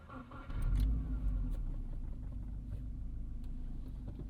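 A 2014 Subaru WRX hatchback with a turbocharged boxer engine and five-speed gearbox cranks and fires up with a deep rumbling surge, then settles into a steady, close low idle.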